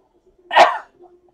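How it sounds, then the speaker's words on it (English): A single sharp sneeze bursts out close by, brief and loud against near silence. "I'm gonna sneeze."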